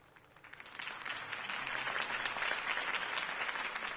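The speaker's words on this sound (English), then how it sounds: "could have heard that applause" Applause from a large video game crowd in Batman: The Telltale Series swells after a quiet start and holds steady as a dense wash of clapping.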